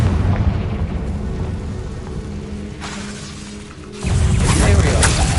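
A Confringo fire-blast spell bursts in Hogwarts Legacy, a heavy boom with a crackling rush after a quieter stretch, loud and close, with a voice talking through the combat.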